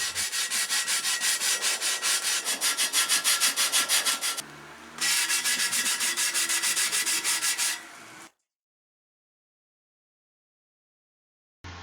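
Hand sanding a wheel rim with sandpaper, quick rhythmic scratchy strokes close up, pausing briefly, resuming, then cutting off into silence before a short final burst.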